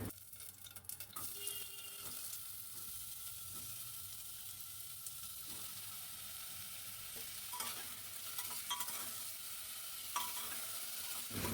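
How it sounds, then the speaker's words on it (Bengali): Cut potatoes frying in mustard oil with nigella seeds and slit green chillies give a steady, soft sizzle, with occasional scrapes and taps of stirring in the pan, no voices. "অল্প নাড়াচাড়া করে এবার কেটে রাখা আলু দিয়ে দিলাম।"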